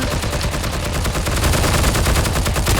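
Continuous loud automatic gunfire in the World War II shooter Heroes & Generals, a dense, unbroken volley of rapid shots throughout with no talk.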